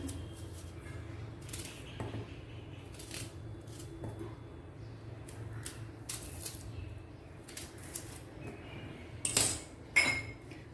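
Small onions, two of them, cut into large pieces on a board, giving a scatter of sharp knife taps and crisp slicing clicks, sparse at first and then sharper and louder near the end, with no talk.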